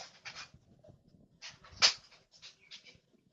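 A dog whines and whimpers outdoors in short, high, repeated cries with quiet panting between them, fairly faint.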